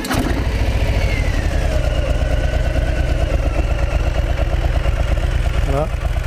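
A 2020 Harley-Davidson Softail Standard motorcycle engine idles steadily and loud close by, a continuous deep throbbing rumble with a brief burst of voice or noise near the end.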